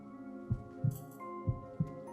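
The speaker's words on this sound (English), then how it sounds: "All he could hear was his own pounding heartbeat." A slow, pounding heartbeat effect from the game Mahoutsukai no Yoru, four dull paired thumps over a low steady hum, quiet and close.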